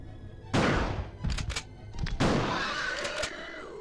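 Two loud shotgun blasts in the Resident Evil 2 video game, each a sharp, heavy boom with a decaying tail, about a second and a half apart, with softer thuds and impacts between them.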